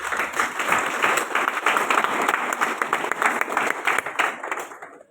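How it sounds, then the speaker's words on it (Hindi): A sustained round of loud audience clapping fills the room at a doctor's celebration event, dense and steady throughout before tapering off at the very end. "हम चाहते हैं उनके लिए एक बार जोरदार ताली।"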